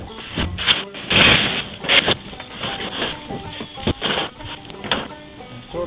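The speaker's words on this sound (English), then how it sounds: "I'm gonna shoot a few screws into it" Power driver bursts sinking screws into tin roofing sheet on the back of a garage, a handful of short whirring runs with rattling metal between them, fairly close and alone.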